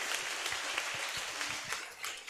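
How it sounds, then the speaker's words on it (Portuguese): Church congregation in a Brazilian evangelical service applauding, steady faint clapping from many hands with irregular louder claps, heard at a distance in a reverberant room. "Vamos aplaudir a Ele"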